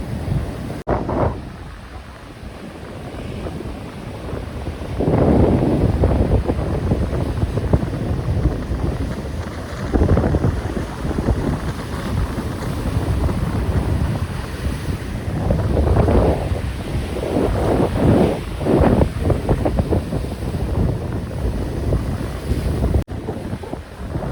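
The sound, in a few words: sea waves and wind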